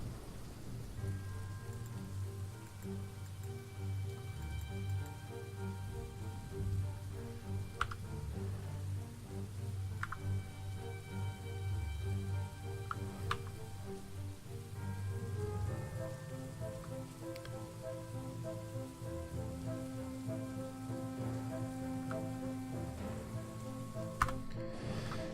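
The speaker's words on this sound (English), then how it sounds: "It was raining on me." Steady rain patters on surfaces in Dwarf Fortress, with soft drip ticks and a few sharp clicks scattered over a continuous low wash, and a low rumbling tone underneath.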